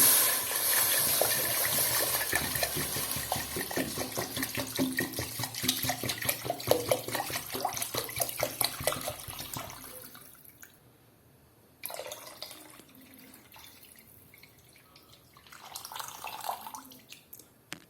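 Water is poured into a cooking pot of Palestinian maqluba holding smashed onions and roasted ingredients, a steady splashing pour for about ten seconds, then quieter sloshing and bursts of movement, with no voices.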